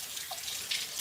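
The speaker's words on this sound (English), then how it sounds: "I'm gonna fill this up with water." Tap water pours steadily into a container, a soft continuous hissing splash heard faintly and alone for about a second.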